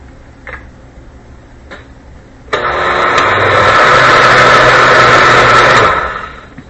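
A kitchen grinder blends carrot soup: a few faint knocks, then the motor starts abruptly and runs loud and steady for about three seconds before winding down.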